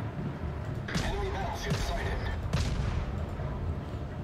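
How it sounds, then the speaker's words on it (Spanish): Cruiser guns firing in the naval video game World of Warships, several booming salvos with rumbling tails over a steady engine and sea drone, with a person talking over the gameplay. "A ver qué tal llegan esos disparos."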